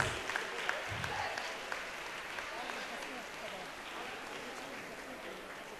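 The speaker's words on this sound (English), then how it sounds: "A big round of applause," Students and audience at a school annual day function give a big round of applause, a continuous wash of many hands clapping that sounds somewhat distant in a large hall and holds steady throughout.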